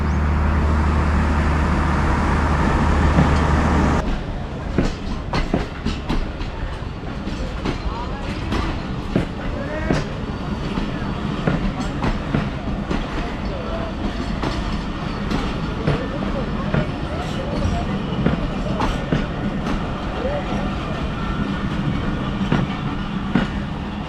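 The 14 Down Awam Express pulls out of Gujrat railway station, with a steady rumble of wagons, repeated clickety-clack of wheels over rail joints and a constant loud roar throughout, after a brief deeper engine-like drone at the start.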